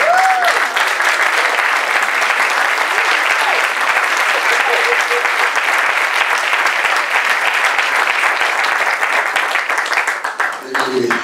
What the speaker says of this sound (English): let's just give these guys a round of applause.